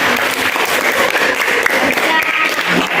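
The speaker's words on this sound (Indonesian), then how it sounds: "beri tepuk tangan untuk Clara." Students in a classroom clap for a classmate after a chemistry observation lesson, a loud, close burst of scattered hand claps with some voices mixed in.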